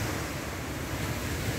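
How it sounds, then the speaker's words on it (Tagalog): Sea waves wash ashore under a breeze, a constant broadband roar of surf mixed with wind buffeting the microphone, loud and steady with no voices. "Ang sarap ng simoy ng hangin at ang pakinggan ang alon ng dagat"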